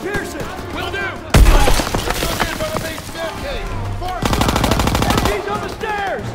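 Loud bursts of automatic machine gun fire from a World War II shooter game, Call of Duty: WWII, with a sharp opening burst and a second sustained rattling volley under battle noise and voices.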